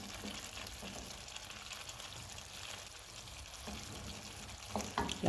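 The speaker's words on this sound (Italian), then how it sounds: "Ora è il momento di aggiungere i peperoni." Bell peppers added to veal stew frying in a pan: a steady soft sizzle with faint stirring, ending in a few louder clatters and crackles as the pieces drop in.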